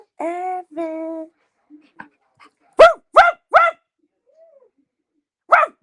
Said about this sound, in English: I'm trying to get him to bark, y'all.